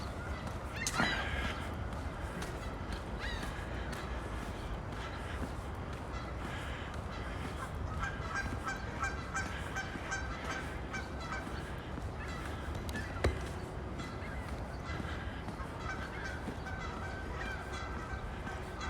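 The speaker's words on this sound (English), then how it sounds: "Mostly geese, but not just geese." Geese honk across a misty lake in Regina in April, faint scattered calls mixed with other bird cries over a low, rumbling outdoor background, distant with a couple of sharper nearby knocks.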